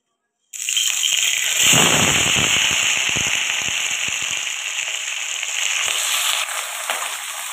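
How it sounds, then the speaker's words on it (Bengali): Pieces of pointed gourd (potol) dropped into hot oil burst into a sudden loud, crackling sizzle that settles into a steady bubbling fry close by, with scattered pops and no voices. "এবার আমি ওই তেলের মধ্যে পটলটা ভাজা করে নেব"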